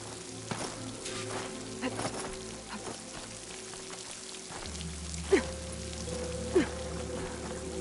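Water flows steadily near a waterfall in the game Horizon, a soft continuous wash with faint dripping and splashes, low and distant, joined by a low hum partway through and two brief clicks.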